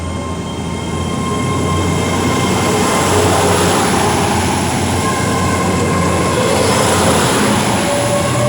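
Train departing Ashchurch for Tewkesbury station, a loud, steady rumble of railway wagons with whining tones and faint wheel squeal, building slightly and holding close by without speech.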